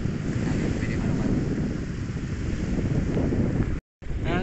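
Strong seaside wind roars steadily against the microphone along with surf from the sea, a dense, continuous rush that cuts out briefly near the end before resuming.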